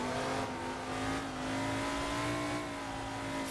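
Camaro Trans Am race car engine in Assetto Corsa at Winton, a loud sustained V8 drone holding a steady pitch with slight rises, close and alone without speech.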